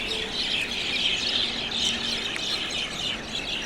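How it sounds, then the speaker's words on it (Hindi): Many small birds chirp and twitter from dense bushes outdoors, a steady bright chatter that continues without pause. "चिड़ियों के चहचहाने की आवाज़ आ रही है आपको?"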